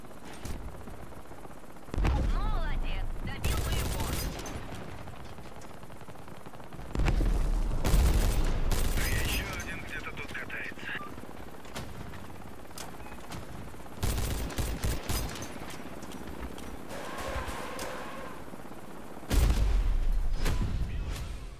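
Gunfire from the vehicle combat game Crossout, with several loud, broadband bursts of shots and booms scattered among quieter stretches of continuous battle noise and engine rumble.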